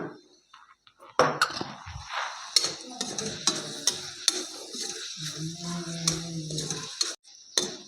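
Sauces stirred into vegetables in a pan for cabbage Manchurian on a gas stove turned up high: repeated clinks and scrapes of a spoon against the pan over a soft sizzle, close and without talk.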